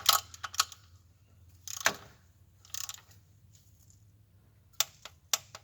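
Sharp isolated clicks from a torque wrench tightening bolts on a 2005 Ford F350 6.0 flatbed, several short metallic snaps spaced irregularly and fairly close, over a quiet low hum.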